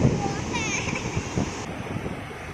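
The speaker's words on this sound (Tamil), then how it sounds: "இந்த வேவ்ஸ் வீடியோ பேக்ரவுண்டில் தேவையில்லாத வாய்ஸ், காற்று வீசுகிற நாய்ஸ் இதெல்லாம் சேர்ந்து ரெக்கார்ட் ஆகியிருக்கு" Ocean waves wash and hiss under gusting wind buffeting the microphone, a steady rough roar with faint background voices mixed in.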